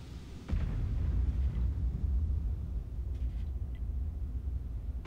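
A tank cannon fires one shot in the World of Tanks video game: a single heavy, close blast followed by a deep rumbling decay that lasts several seconds.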